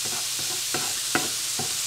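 Sweet potatoes frying in a pan over medium heat give a steady close sizzle, with a few soft scraping stirs of a utensil against the pan.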